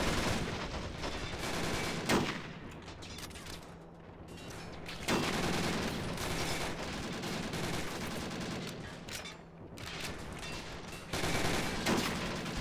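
Sniper rifle fire during a bridge assault in Men of War with the Planetside 2 mod: a steady, loud barrage of shots crackles throughout, easing briefly before more blasts and a renewed burst near the end.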